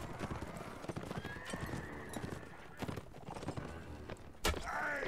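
Horse hooves clip-clop steadily in the video game Mount & Blade: Warband, with a loud whinny near the end amid battle noise.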